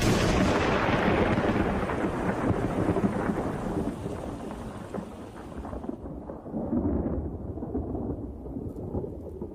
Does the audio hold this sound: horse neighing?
no